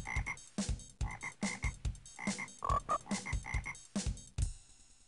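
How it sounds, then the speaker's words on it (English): Frog croaking in the Stuart Little Wordland video game: a rhythmic series of short, loud croaks repeating about twice per second, alone with no talk. "Frog."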